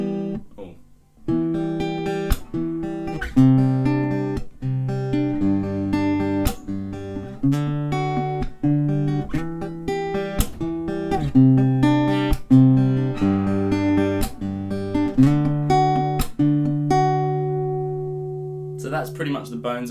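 Guitar chords of a song played slowly and cleanly, sustained strummed and picked chords with sharp attacks ringing through twenty seconds, close and fairly loud with no talking.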